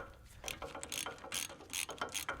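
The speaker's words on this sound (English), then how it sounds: "Install the 3 rear bolts and use a torque wrench to get them tightened properly." A ratcheting wrench clicks rapidly in short bursts while tightening the rear hub assembly bolts on a Ford F150 during a wheel bearing replacement, close up and with no talking.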